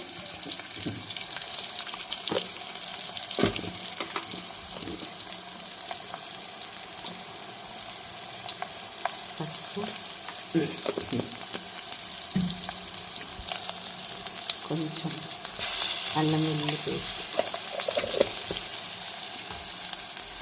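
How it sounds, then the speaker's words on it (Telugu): Small onions fry in a pan for a tamarind stew, giving a soft, steady sizzle throughout with occasional stirring clinks and scrapes, close and moderately quiet. "సో ఇది ఇది కొంచెం వేగాలి కొంచెం పసుపు వేసుకొని"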